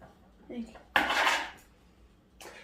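An antique metal egg beater is handled, giving a single bright metallic clatter and rattle up close, with a faint clink afterward and soft voices nearby.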